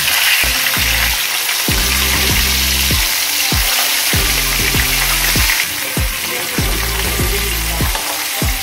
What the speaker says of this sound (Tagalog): Ipiprito na natin ang isdang bakoko sa medium heat.